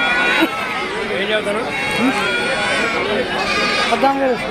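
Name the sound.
young male goats bleating at goat market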